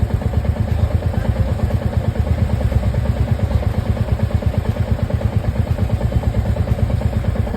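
A Royal Enfield Meteor motorcycle engine idles steadily up close, a loud, even, rapid thumping pulse with mechanical clatter that holds constant throughout, with no voices.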